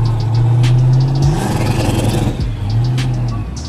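A loud F-body car engine rumbles at a deep, lumpy idle, close by, with a brief rev in the middle before it settles back to idle, and no voices.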